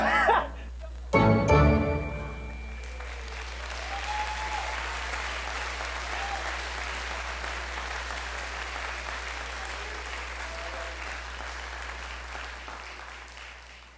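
A crowd at a fire department recruit academy graduation applauds steadily in a large room, beginning with a few louder claps and a brief jingle, then holding an even wash of clapping that slowly tapers.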